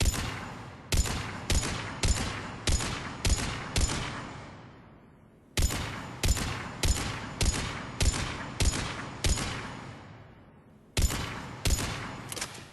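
Mattock rifle in Mass Effect 3 fires in three rapid bursts of five or six sharp, loud semi-automatic shots, each burst trailing off into a fading reverberant tail before the next, with no talk over it.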